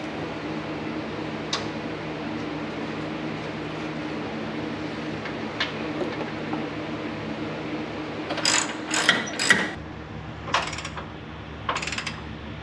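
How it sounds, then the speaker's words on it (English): A ratchet tightens nuts on the front suspension bolts of a 1980 Camaro, giving quick clicking bursts near the end against a quiet garage hum, with no talking. "You don't really have to worry about over tightening these nuts"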